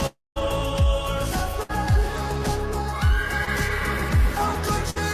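A horse whinnies repeatedly in a loud, close series of descending neighs, four or five calls spaced about a second apart, with no talking over them.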